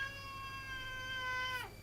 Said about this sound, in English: I have cats to occupy me.